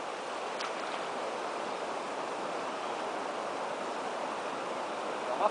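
Rushing water from a waterfall on the Mogi Guaçu river makes a steady, even roar with no pauses or voices.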